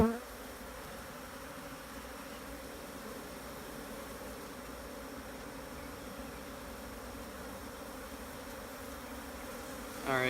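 A honeybee swarm buzzes in a steady, dense, faint drone throughout during a hive transfer, with a brief louder rustle at the start and end.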